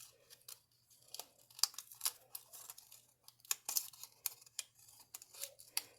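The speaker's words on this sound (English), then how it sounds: "Let me cut that a little bit better." Scissors snip through paper for a shabby chic junk journal teabag caddy, a close, quiet series of short irregular cuts with faint crinkling between them and no talk.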